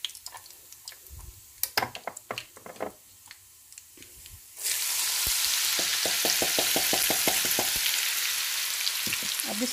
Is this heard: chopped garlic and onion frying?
yes